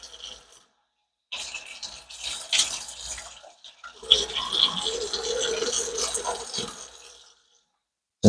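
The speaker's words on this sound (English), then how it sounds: "I'm gonna go ahead and pump some water in here." Hot water is pumped into the freezer drain line of an older leaking fridge, giving uneven squirting and splashing bursts with short pauses, close and soft, with a brief gap of quiet midway.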